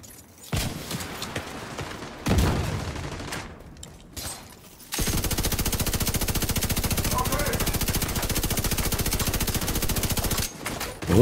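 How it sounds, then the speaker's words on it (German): Gunfire in the video game The Division 2: scattered shots and bursts early on, then a long sustained run of rapid automatic fire with a fast, even rhythm that cuts off abruptly near the end. "da ist wieder irgendwo einer von hinten, der rumballert"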